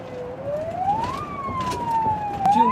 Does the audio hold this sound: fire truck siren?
yes